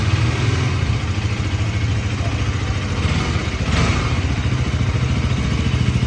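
A KTM Duke 200 motorcycle's exhaust burbles in a steady, loud, low throb at idle, close by and unbroken for the whole stretch.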